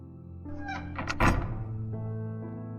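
Elevator doors slide open after a dead stop: a single solid mechanical thunk followed by a short grinding sweep, close and alone over a faint low hum that lingers afterward.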